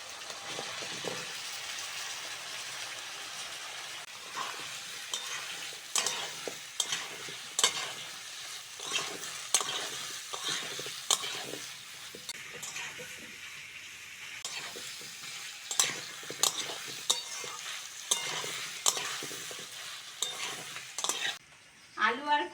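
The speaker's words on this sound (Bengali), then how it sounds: "চিংড়িটা ভালো করে ভেজে নিয়েছি আলু আর কুমড়োটা দিয়ে দেবো" Prawns, potato and pumpkin fry in a pan with a soft steady sizzle, while a utensil scrapes and clinks against the pan in repeated stirring strokes, close and fairly quiet.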